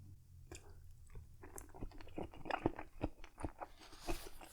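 Shrimp dumplings from a dim sum meal being chewed close up, with a steady run of wet, soft crunching bites and mouth sounds, no talking.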